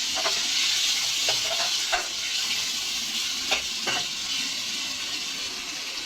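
Turmeric and ground cumin are mixed into keema in a hot pan, giving a steady loud sizzle with a few soft stirring scrapes scattered through.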